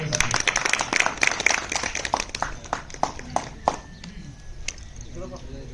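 Clapping from an audience at a primary school flag-hoisting ceremony welcoming an honored guest, scattered uneven claps mixed with a speaker talking over a PA system.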